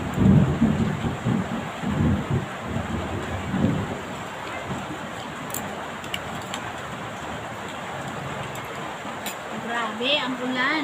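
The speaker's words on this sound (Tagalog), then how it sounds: "Grabe ang ulan." Heavy rain pours steadily while deep thunder rumbles loudly through the first few seconds and then fades, with a person talking over the downpour.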